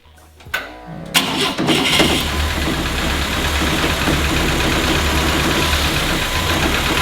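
An old BMW 2002 car engine, unstarted for 30 years, cranks briefly with a couple of sputters, then catches and settles into a steady, rough idle close by.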